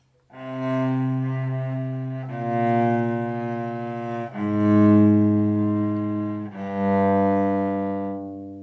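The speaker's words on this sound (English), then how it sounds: "We will hear this bass line, which I'm going to play for you in just a moment" Four slow, sustained low notes of a passacaglia bass line played one after another on a bowed or organ-like instrument, descending, loud and solo.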